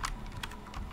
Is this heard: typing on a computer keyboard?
yes